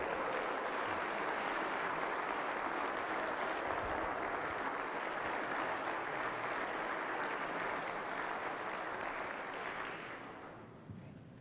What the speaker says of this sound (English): y'all please applaud for them.